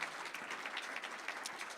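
An audience claps for champion students at a high school State of the Campus assembly, a steady, moderately distant patter of many hands lasting the whole moment with no voices on top.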